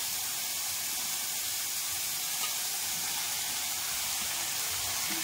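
Drumstick leaves and tomato sautéing in a pan give a steady, even sizzling hiss that holds at the same level throughout.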